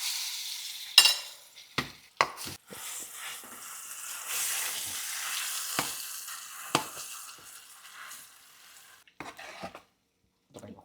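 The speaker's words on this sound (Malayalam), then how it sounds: "ഈ മധുരക്കിഴങ്ങ് ഈ നെയ്യിൽ കിടന്നിട്ട് ഒന്നിങ്ങനെ നന്നായി വഴന്ന് വന്നു കഴിഞ്ഞാൽ" Cooked, mashed sweet potato frying in ghee for a Kerala payasam, with soft sizzling under repeated scraping and stirring of a spoon against the pan, punctuated by sharp metallic knocks.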